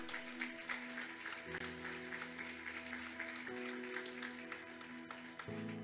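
A church congregation at a family worship service applauds steadily for several seconds, a dense patter of many hands, with sustained musical tones underneath.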